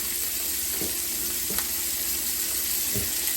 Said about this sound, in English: Alright, we're going to go in with our peppers.